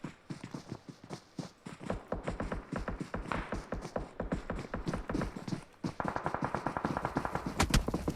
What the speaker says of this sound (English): A lot of shots being exchanged.